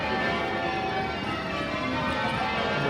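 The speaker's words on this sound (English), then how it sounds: "the bells behind us are from a different building" Continuous ringing of church bells, dense and overlapping, steady throughout with a reverberant wash and no pauses.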